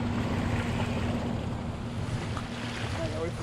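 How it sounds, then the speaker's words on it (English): Ocean waves wash and churn around a crowded fishing boat at sea, a steady loud rush of water blended with gusting wind buffeting the microphone, with no voices. "I gotta wait for these waves to subside."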